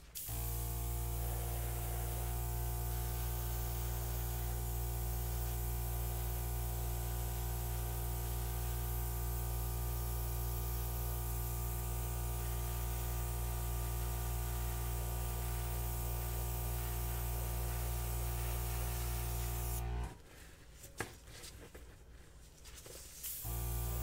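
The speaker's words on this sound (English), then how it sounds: "So I'm going to airbrush this out." An airbrush sprays paint over an acrylic flip-and-drag pour canvas, giving a steady close hiss with a low hum that runs for about twenty seconds and then cuts off into quieter, crackly handling noise.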